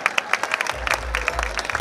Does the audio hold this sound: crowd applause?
yes